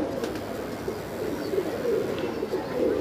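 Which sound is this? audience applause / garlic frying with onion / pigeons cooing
pigeons cooing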